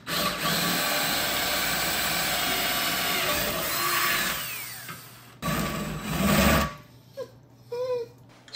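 A power drill bores holes for a radiator fan mount on a 1964 Triumph TR4, whining steadily and close for several seconds, then cutting out into a few shorter bursts with brief pauses between them.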